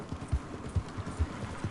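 A horse's hooves clip-clop at a steady walk in the video game Red Dead Redemption 2, a regular rhythm of soft, close thuds with no talk.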